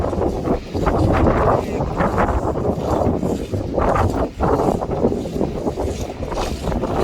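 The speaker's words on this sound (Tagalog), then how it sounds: "it's windy" Strong wind buffets the microphone steadily, a loud rushing roar with gusts throughout.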